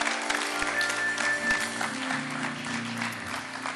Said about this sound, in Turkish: Alkışlarla buraya alıyoruz Emre'yi.